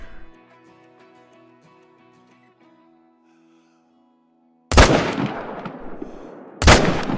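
Two loud, sharp M1 rifle shots ring out in the hunting game Call of the Wild, spaced about two seconds apart, each with a decaying echo, after a stretch of quiet ambient tones fading to near silence.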